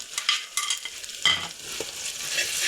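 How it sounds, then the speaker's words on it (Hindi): Spices such as black pepper stirred and roasted in hot ghee in a pan while making kadhi pakora, a spoon scraping in irregular strokes over a steady close sizzle, with no talking. "अब इन मसालों को अच्छी तरीके से हम अच्छी तरीके से भूनेंगे 2 से 3 मिनट ताकि इसकी अच्छी तरीके से जो खुशबू है वो इस घी में आ जाए।"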